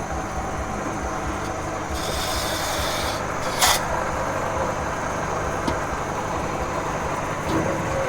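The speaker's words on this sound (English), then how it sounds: "this guy's got a wood lathe and he's turning some of the smaller posts" Wood lathe turning small wooden posts at a Northern Thai-style temple construction site, a steady rasping, rubbing drone of the cutting tool on wood with a few sharper scrapes, close and continuous.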